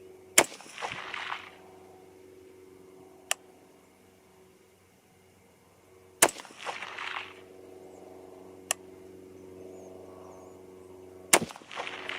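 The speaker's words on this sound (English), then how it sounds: "target on the left. First 3 shots." Three sharp rifle shots from a .243 Win. / 6mm ARC rifle ring out during varmint target practice, spaced roughly five to six seconds apart, each followed by a short echo. Faint ticks fall in the quiet stretches between them.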